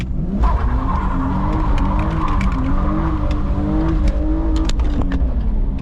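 Tyres squeal and skid over a constant loud engine roar, with sharp scraping bursts scattered throughout.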